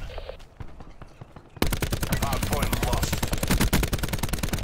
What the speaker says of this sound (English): That was some really shaky shots.